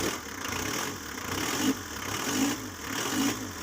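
A Mitsubishi L300 engine runs steadily after starting, a loud continuous idle with a faint recurring low pulse roughly every second, no talking.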